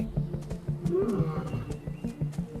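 Lion or other big cat roaring in the African wild at night, a series of deep rhythmic grunting roars and rumbles, close and loud.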